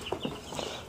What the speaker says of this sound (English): Unboxing the chickens now.